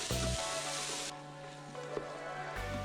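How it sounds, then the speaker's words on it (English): Celery and other chopped vegetables sautéing in an Instant Pot give a soft, steady sizzle, fairly quiet and continuous with no voices. "We're gonna let these saute for 4 minutes until they get nice and tender."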